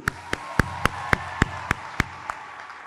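A few separate claps ring out at a high school graduation ceremony for the class of 2023, about nine sharp, evenly spaced hand claps over a quiet room rather than full applause.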